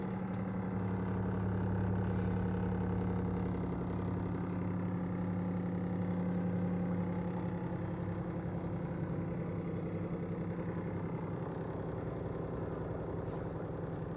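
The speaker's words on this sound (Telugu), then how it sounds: "మోటార్ అనేది కొంచెం నాయస్ రావడం జరుగుతుంది" A small water purifier motor hums steadily and continuously with a low, even drone, close by and unchanging for the whole stretch.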